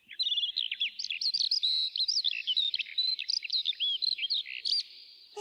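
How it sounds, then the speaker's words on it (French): A nightingale sings in a forest, a rich, continuous run of rapid chirps, trills and whistled phrases, close and clear with no other sounds. "C'est un rossignol,"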